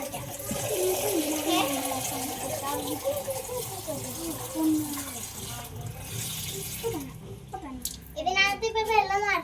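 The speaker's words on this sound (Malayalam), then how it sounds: "ഇവിടെ നമുക്ക് വെള്ളം നിറയ്ക്കാം." Water is poured into a small hand-dug pond, a steady splashing rush that runs under a voice and other talk before breaking into louder gurgling near the end.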